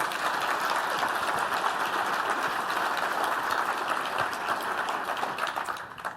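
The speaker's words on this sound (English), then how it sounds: "But you all clapped, so you liked it just as much" Audience at a Microsoft Visual Studio tech talk applauding, a dense, steady sustained clapping from a large crowd that tapers off at the end.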